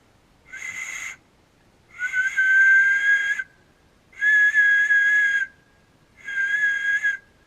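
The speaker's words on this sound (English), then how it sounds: "you can make a whistle just by putting it next to your mouth and blowing" Four shrill, steady whistle blasts made by blowing across an empty gun casing, each lasting about one to two seconds with short gaps between, loud and close in quiet woods.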